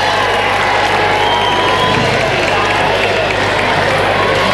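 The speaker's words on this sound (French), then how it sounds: "On l'applaudit très fort." A large outdoor crowd at a French Intervilles summer games event cheers and claps loudly in a dense, continuous roar.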